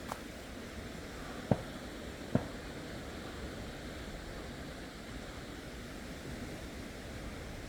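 Broad, steady rush of a river swollen after heavy rain fills the scene, with two brief faint knocks early on.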